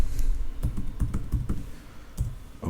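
Keys tapped on a computer keyboard while entering a value in design software, a quick irregular cluster of close, crisp clicks with short pauses between bursts, no voices.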